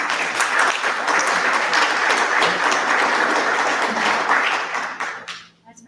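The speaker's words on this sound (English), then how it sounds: "Say a round of applause for them too." A dense, loud round of applause from an audience at a district quarterly community meeting, continuous and even for about five seconds before quickly dying away.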